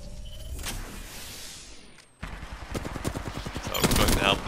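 Rapid bursts of Havoc rifle fire in the Apex Legends video game, close and loud, with sharp repeated shots in the second half after a quieter swelling stretch.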